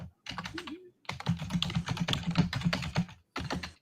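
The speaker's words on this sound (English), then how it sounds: "He's typing like a madman." Rapid, continuous clatter of fast typing on a computer keyboard, close and loud, with dense keystrokes in quick bursts separated by brief pauses.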